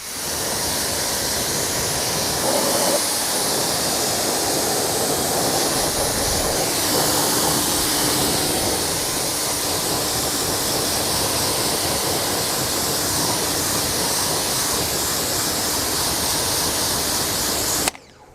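Water sprays in a long, steady broadband rush as a 2022 Ford F150 Platinum is rinsed off during a wash, loud and continuous for about eighteen seconds before stopping, with no talking.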